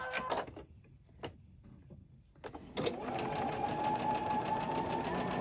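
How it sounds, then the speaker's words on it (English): A sewing machine stitches two fabric strip ends together with a 1/4 inch seam for a quilt; a few clicks and handling sounds give way to a steady, close, continuous motor whir with no talking. "I'm going to go ahead and sew"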